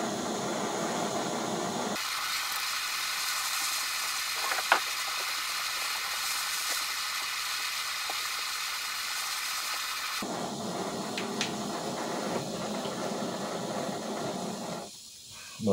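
Gas blowtorch heating a dented exhaust pipe from a 125 CR motorcycle during restoration, a steady roaring hiss close by that drops away briefly then returns, with a few faint clicks and no speech.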